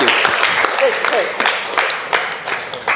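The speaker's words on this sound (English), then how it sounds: "Give me a small clap because it took too much time" Small audience at a leadership session giving a brief scattering of claps, close and moderately loud, with people talking over it.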